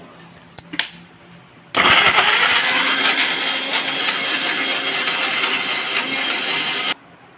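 A kitchen mixer grinds red chillies, shallots, tamarind and tomato into a chutney paste, starting abruptly after a few faint clicks and running as a loud, steady whirring roar for about five seconds before cutting off.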